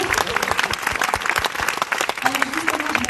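Audience clapping for the president at a tenth-anniversary gathering of a women's business network, steady dense applause lasting the whole stretch with a little voice and crowd murmur mixed in.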